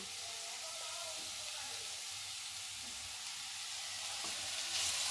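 Half a tomato frying in a hot pan for a quick savoury evening snack, giving a steady close sizzle with spitting crackle that rises slightly near the end; no talking.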